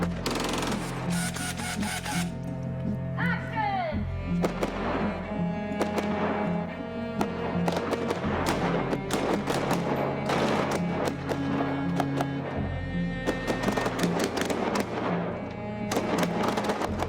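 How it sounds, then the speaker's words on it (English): Real firearms shooting half-loaded blanks on a tight, narrow street set, sharp reports cracking out in rapid bursts and volleys over a continuous low rumble, loud and close throughout. "We chose to use real weapons with half-loaded blanks to give a little bit of heightened realism to it"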